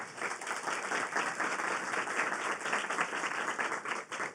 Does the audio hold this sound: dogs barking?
no